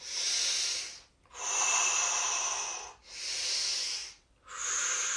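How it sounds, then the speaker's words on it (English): Slow, deep breaths during a seated chair yoga stretch, four long airy inhale and exhale swells separated by short pauses, close and steady with no talking. "You're going to give yourself some deep breaths here"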